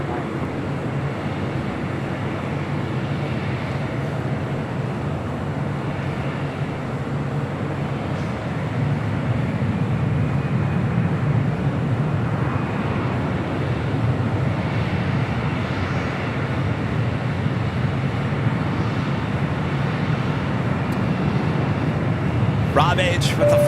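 Airplane at LAX, a steady loud jet engine roar holding through the whole stretch with a slight swell toward the end, with voices talking over it.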